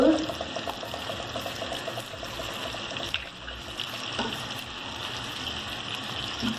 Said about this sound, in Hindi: मुझे आप ज़रा सा पानी देंगे बेटा, थोड़ा सा इसके लिए मुझे चाहिए। अच्छा, ये मैं इसमें डालूंगी अब